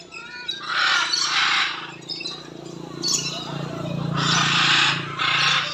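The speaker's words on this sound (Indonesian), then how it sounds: "Oh, burung dari luar juga bebas masuk ke dalam." Birds in an aviary at Eco Edu Park Batam squawk and call in loud, ragged bursts, some harsh and crow-like, over a steady background murmur.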